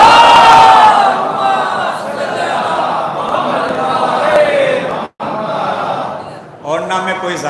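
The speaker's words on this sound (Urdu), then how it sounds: "امام زمانہ بلندر صلوات" A large crowd recites salawat in loud unison, voices echoing in a hall, with a brief pause before the chorus resumes.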